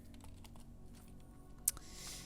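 Keys clicking on a computer keyboard, a quiet irregular patter of separate taps with a slightly sharper clack near the end, set against a faint low hum.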